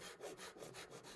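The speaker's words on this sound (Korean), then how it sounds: "톱질을 해주고요." A hand saw cuts wood for a three-way mitre joint in traditional joinery, making a quick run of four or five short, rhythmic rasping strokes, faint and close with no talk.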